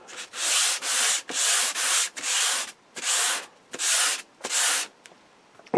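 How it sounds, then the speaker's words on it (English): Rhythmic hand sanding with sandpaper during restoration of an RCA Radiola 60 radio, about eight firm scratchy strokes in steady succession, close and alone, with short pauses between. "This stuff is really easy to sand."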